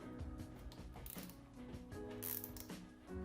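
Stem bolts on a Kinesis e-bike being tightened with a hand tool, giving close, continuous ratcheting clicks and metallic mechanical rasping that carry on without a break and no talking.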